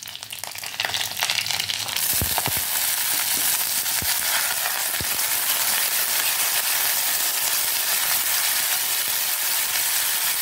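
Onions sizzle and crackle steadily in hot oil in a pan for okra stir-fry, with garlic added, a dense continuous frying hiss with a few brief stirring clinks near the start.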